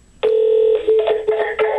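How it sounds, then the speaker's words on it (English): Phone keypad tones as the 1 key is pressed to accept an incoming call: one sustained tone followed by several shorter beeps, close and clear. "I'm going to press 1 to accept it."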